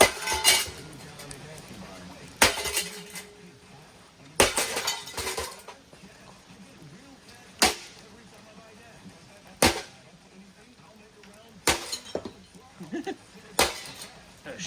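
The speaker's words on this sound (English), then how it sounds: "A shattering noise there from the brackets." Metal ceiling fan brackets crack and clatter as the fan is wrecked outdoors, giving about seven sharp, loud impacts spaced a second or two apart over a low rumbling background.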